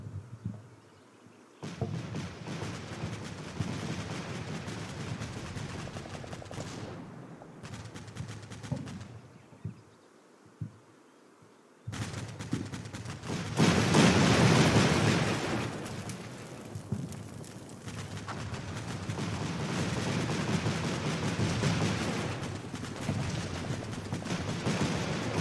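Gunfire and explosions in Combat Mission: Black Seas, a modern combat strategy game, with scattered distant shots and booms, a brief lull, then a heavier, louder stretch of fire and rumbling blasts.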